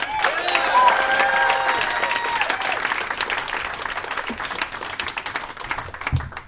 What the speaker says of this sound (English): I want you to start clapping right now for Holly James